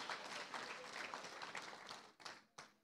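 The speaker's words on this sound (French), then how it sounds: "Ah oui, vous pouvez applaudir le Seigneur." A congregation applauds the Lord during a sermon, a faint distant patter of many hands that thins out toward the end, where a couple of separate sharper claps stand out.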